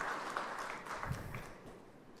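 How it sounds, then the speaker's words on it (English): Audience applause at a conference speaker session, a soft scattered clapping from a crowd that slowly fades, faint and distant with no speech. "I want to hear a loud applause for those who established the code, the names Mitali read out, right?"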